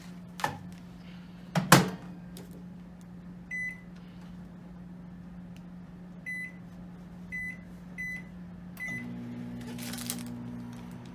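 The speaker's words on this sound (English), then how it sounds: "Pull up to the microwave." A microwave oven's keypad beeps several times and a door clunks, then the oven starts cooking microwave popcorn with a steady low hum under a brief rattle, no speech.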